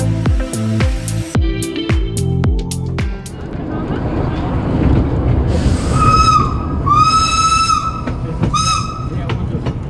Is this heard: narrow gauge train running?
yes